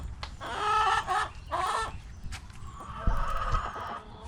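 Hens clucking and squawking together at a farm chicken coop at feeding time, a busy overlapping chorus of close, loud calls.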